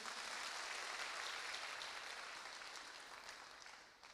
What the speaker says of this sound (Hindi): एक शानदार ताली आपके लिए बनती है।